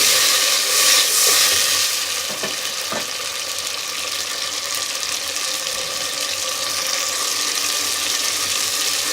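Tomato paste sizzles and fries in hot oil in a pan with browned onions, a continuous crackling hiss with a few soft clinks, no talking.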